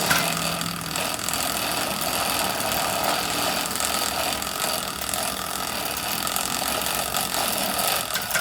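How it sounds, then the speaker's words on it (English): Chain cleaner being run along a bicycle chain, a steady, close, continuous mechanical whirring and rattling ratchet-like clatter that holds at an even loudness throughout. "But I like the chain cleaner because it does a lot of the work for me."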